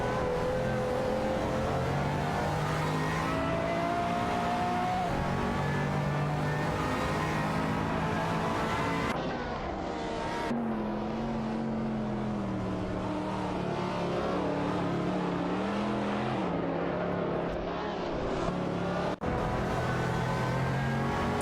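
Race cars in a racing video game, including a Nissan GT-R Nismo and a McLaren, drone and whine continuously, their engine pitch rising and falling through shifts and corners, with sharp cuts in the sound.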